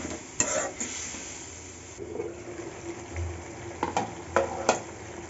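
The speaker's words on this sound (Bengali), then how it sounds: "লবণ একসাথে দিয়ে এটা কষাতে হবে" A spatula stirs turmeric, chili and salt sautéing in a pan for a pointed gourd and egg dish. A steady close sizzle runs underneath, with a few sharp scrapes and taps against the pan and no voices.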